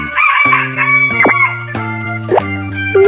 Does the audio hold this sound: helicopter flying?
no